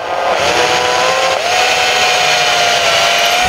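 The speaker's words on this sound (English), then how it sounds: "basically all I'm doing is drilling them out." A power drill bores out old nail holes in recycled rimu wood from a former wall stud, a loud continuous whine close up with the pitch dipping briefly as the bit bites, then steadying.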